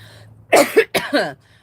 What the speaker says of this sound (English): you will hear me cough